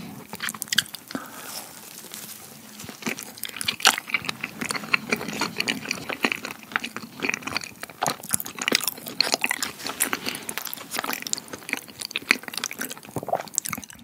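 Kiwi fruit mochi is eaten close to the mic, with soft, sticky bites and squishy chewing repeating in an irregular rhythm and occasional wet crunches, and no talking.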